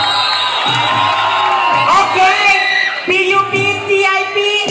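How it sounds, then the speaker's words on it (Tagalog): Crowd at a university-belt dance competition grand finals cheering, whooping and shouting loudly, with surging high-pitched yells and continuous roar throughout. "Gusto ko makarinig ng malakas na palakpak, ng malakas na hiyawan."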